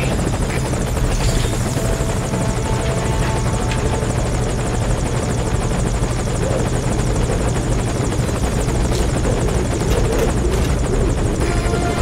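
A helicopter from the video game Metal Gear Solid thrums steadily and loudly throughout, its rotor beat continuous with no speech.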